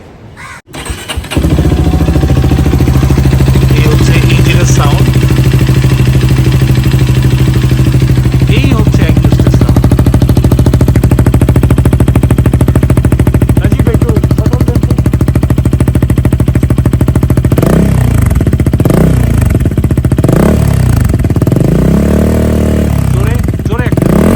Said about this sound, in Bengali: আমি আপনাদেরকে এই বাইকের নতুন যে একজোস্ট একজোস্টের সাউন্ড